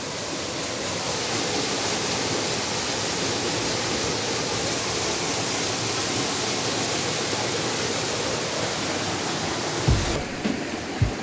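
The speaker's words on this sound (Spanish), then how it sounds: "Así es el agua de Yanahaka." Water rushing steadily at Yanahaka, a loud continuous broadband roar like a stream or small waterfall heard up close, with a few brief knocks near the end.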